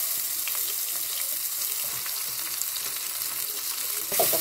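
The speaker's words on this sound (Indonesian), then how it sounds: "Kita tumis ya bumbunya." Spice paste sautéing in a pan: a steady, close hiss of frying oil with faint scraping of stirring, continuing throughout and swelling slightly at the end, with no talk.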